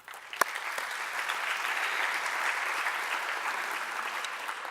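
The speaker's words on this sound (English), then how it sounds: "a round of applause for the Summit Planning Committee and all of the work that they have done" Conference crowd at the opening of the WTA Tourism Summit gives a round of applause for the planning committee: a sharp early clap, then sustained, full clapping that stays loud and even to the end.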